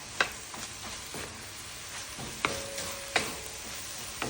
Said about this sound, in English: I'm starting to hear it, fry up a little bit